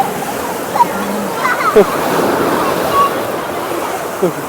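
Sea waves surge and wash in a continuous loud roar on a shore during a fair, with brief distant voices and calls over the surf.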